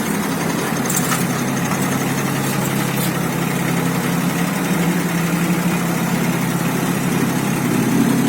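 A Solis 24 mini tractor engine runs steadily close by as it drives into a truck, a continuous low chugging drone with no pauses and no voices.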